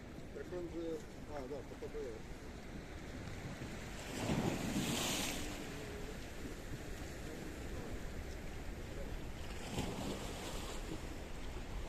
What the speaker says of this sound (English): I'm going to take you out and show you the blue Mediterranean Sea